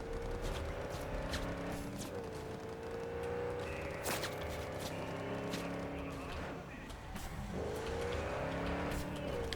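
A police car drives through a city in Cyberpunk 2077, giving a steady engine hum with rising and falling pitch, a few sharp knocks and some faint tire noise throughout.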